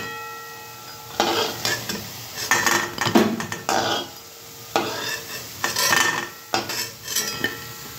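A utensil scrapes and clinks in a frying pan as fried eggplant fritters are lifted out. Several sharp bursts of metal contact come over a faint sizzle of oil, close to the listener.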